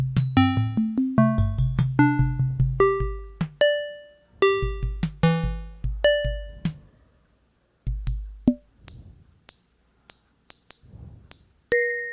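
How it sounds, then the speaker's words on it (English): Synthesized metallic gong tones from a Nord Micro Modular struck repeatedly in rapid sequences, each ringing and decaying, with bright bell-like pitches shifting up and down, one short silent gap midway. "That's the gong I was going for."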